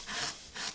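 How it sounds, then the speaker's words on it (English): A chisel slices across wood while carving a stylised tree, giving two short, close rasping strokes with a brief gap between them. "still using a chisel,"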